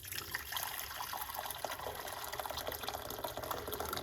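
Hot water pours into a medium-sized pot, a steady splashing trickle and gurgle that runs continuously at moderate level without talk.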